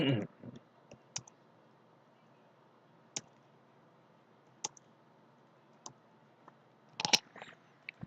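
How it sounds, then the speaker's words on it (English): Computer keyboard keys clicking as code is typed, heard as sparse, close, separate taps with a short flurry near the end and a soft noise at the start, no talking. "So I'm gonna type it here."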